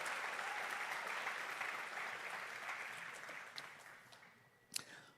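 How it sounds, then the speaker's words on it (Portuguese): A church congregation applauds in a full wash of clapping that slowly thins and fades, ending with a few scattered claps. "Aplauda Jesus, se é para ele, aplaude."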